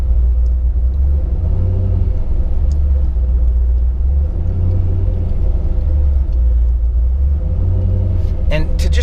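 Jeep Wrangler JK with a swapped LS7 V8 sitting at idle: a loud, deep, continuous rumble with a slow, rhythmic rise and fall in the idle, close up, with a brief clatter at the end.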